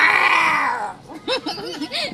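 A cat gives a long, drawn-out meow, then several shorter, choppy meows follow close by and fairly loud, with no one else talking.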